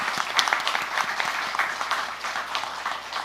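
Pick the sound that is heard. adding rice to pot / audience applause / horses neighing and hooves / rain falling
audience applause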